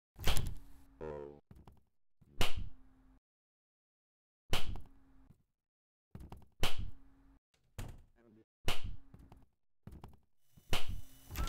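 Sharp thuds and clunks of a door being opened and handled in a hallway, arriving as several separate loud knocks and bangs spaced by short silences.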